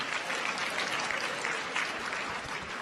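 An audience of Rwandans living in Maine applauds at a diaspora gathering, a dense, even clapping that holds steady for the whole stretch with no break.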